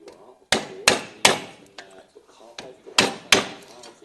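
Sharp hammer-like taps strike a metal plate clamped in a vise, bending it over during Ford Sierra Sapphire Cosworth inner wing rust repair; about six loud, separate knocks in irregular rhythm, with quieter handling noise between.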